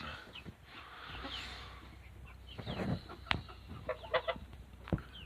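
Chickens cluck in a chicken barn on a small cattle farm, with scattered short clucks and one sharp squawk over a steady background hum.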